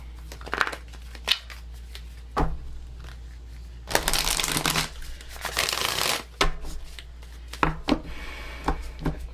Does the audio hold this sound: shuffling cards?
yes